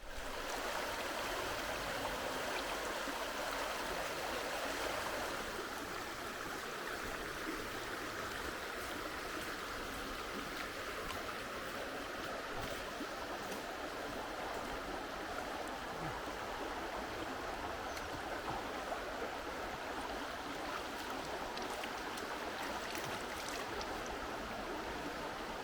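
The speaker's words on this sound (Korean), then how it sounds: "개울가에 와가지고 너무나 고요하게 물소리 들으면서" A flowing stream at a rewilding site in Portugal, a continuous close babbling and trickling of water that stays steady throughout with no voices.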